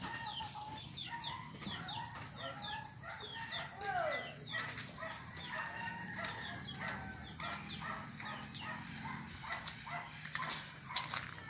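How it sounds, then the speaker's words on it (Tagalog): Pet chickens in a rural Philippine yard cluck and call repeatedly while a rooster crows, set against a constant high whine of insects and crickets, with no talk. "At ito naman yung alaga nilang manok."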